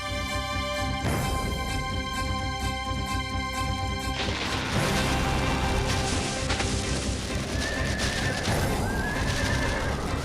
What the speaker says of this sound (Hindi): घोड़ा आगे जाने से डर रहा है।